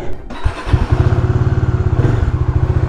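A Kawasaki Dominar 400 UG motorcycle engine turns over and settles into a steady, throbbing idle on a cold morning, close by and loud, with a rapid even pulse and no talking.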